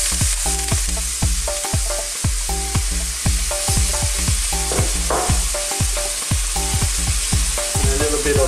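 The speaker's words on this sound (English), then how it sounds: "So now what we'll do is we're going to add our onions" Onions frying in a pot for Jamaican yam and okra stew give a continuous hissing sizzle, heard beneath rhythmic background music with repeating tonal notes.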